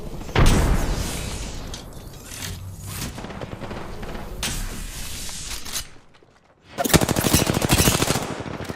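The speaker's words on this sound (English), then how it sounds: "I am taking fire, friends. They're shooting at me." Rapid automatic gunfire from an Apex Legends match, dense bursts of machine-gun fire with booming impacts, a short lull near the middle before another loud burst of shots close up.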